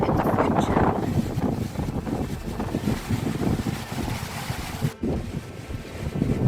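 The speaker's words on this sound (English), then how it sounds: "The wind is so strong now I even lost my sunglasses." Strong wind at a castle ruin in Austria, a steady loud roar buffeting the microphone without a break, with a brief dip near the end.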